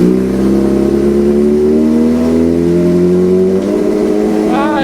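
Suzuki GSX-R 600 motorcycle engine with a Heal Tech quick shifter downshifting through the gears, a loud, steady engine note whose pitch steps down gradually, close by with no talk.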